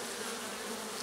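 Honeybees buzz inside a Layens hive in a steady, dense hum, close and continuous with no pauses or voices.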